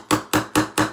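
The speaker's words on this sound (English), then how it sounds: "I like this little hammer because I don't whack the crap out of my hands" A small hammer strikes a mixed media craft piece four times in a steady, quick rhythm, each tap crisp and close with nothing else heard.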